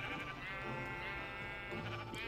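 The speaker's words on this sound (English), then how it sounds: "we're just gonna be punching sheep to death" Sheep bleat in the Minecraft video game, Wii U edition, as a steady, drawn-out electronic bleating that runs throughout at moderate loudness.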